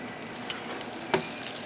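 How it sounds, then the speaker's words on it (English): Olive oil sizzles softly and steadily in a pan with stuffed vegetables, a quiet crackling hiss with a couple of brief pops. "There you can see the olive oil sizzling."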